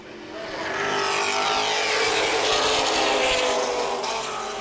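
Late model race cars roar around Baer Field Speedway during a feature race, a loud sustained engine drone with shifting pitch as the pack passes, no talk over it.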